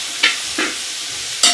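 Onions being sautéed with salt in a hot pan, a steady sizzle broken by three sharp scraping stirs of the spoon against the metal, close and alone with no talk.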